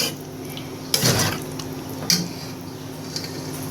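A cooking pot of leftover beef clanks onto a home stove to be reheated, giving two sharp metallic knocks about a second apart, then a fainter clink, with quiet room noise between.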